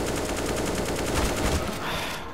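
Rapid automatic gunfire in the video game CS:GO, a dense, loud burst of quick repeated shots lasting a couple of seconds before tapering off.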